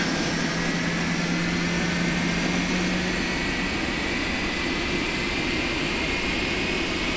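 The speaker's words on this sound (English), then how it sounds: "Rolls-Royce engines have a characteristic" Steady roar of Rolls-Royce jet engines on a Boeing 747-400F in a flight simulator game, a continuous broadband whine with a low hum, constant and loud throughout.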